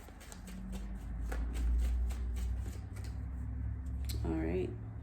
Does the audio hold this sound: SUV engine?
no